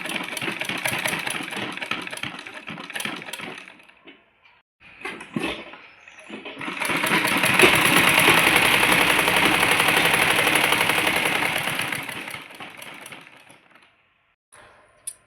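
A sewing machine stitches two pieces of curtain fabric together, running in a fast, steady mechanical whir. A short burst comes first, then after a pause a longer run that swells and fades out.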